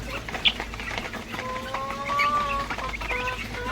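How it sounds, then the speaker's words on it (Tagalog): Young chicks on a Philippine farm peep with thin, high chirps over a murmuring background of clucking fowl, a few brief calls standing out close to the microphone. "ito po yung ating mga sisiw."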